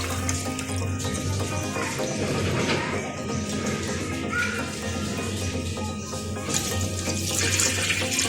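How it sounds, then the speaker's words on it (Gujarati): Basmati rice is rinsed with water in a pot, a steady close splashing and running-water wash with faint clinking that continues throughout with no talking. "આવી રીતના આપણે 2-3 વાર પાણી નાખીને બાસમતી ચોખાને ધોઈ લેવાના છે."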